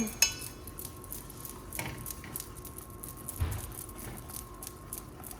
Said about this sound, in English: I'm going to stir this together and turn the heat on.